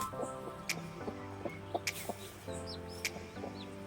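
Hens cluck softly and steadily nearby while sharp, high peeps of chicks break in at intervals.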